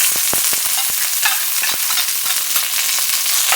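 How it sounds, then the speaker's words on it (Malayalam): Mustard seeds spluttering in hot oil along with dried red chillies, a loud, dense crackle of sharp pops and sizzling heard close up, with no one talking. "കടുകൊന്ന് പൊട്ടട്ടെ കേട്ടോ."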